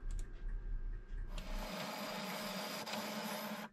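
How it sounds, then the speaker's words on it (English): A label printer runs steadily while printing bottle labels for homemade apple and cherry cider. The mechanical whir and rattle start after a quiet lead-in and carry on continuously at moderate volume to the end, with no talking. "So all that remains now is for me to print the labels off."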